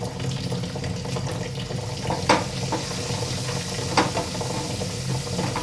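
Brinjal curry frying in a pan as green chillies go in, giving a steady soft sizzle with a couple of brief sharper spatters.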